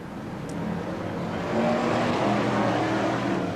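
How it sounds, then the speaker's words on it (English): BriSCA F1 stock cars racing around the Skegness Stadium oval in 1994, a steady roar of several engines blending together at mid distance, swelling slightly louder partway through. "We're off and running in Brisca F1 stock cars, Heat 1 here at Skegness Stadium"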